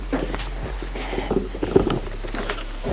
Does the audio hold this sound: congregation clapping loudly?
no